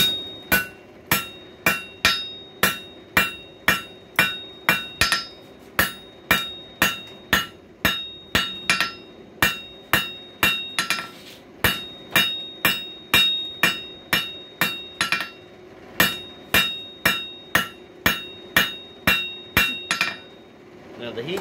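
A hammer strikes a hot coil-spring steel bar on an anvil while it is straightened for a screwdriver. The blows are loud and ringing and come close together in a steady rhythm of about two per second, with brief pauses between runs.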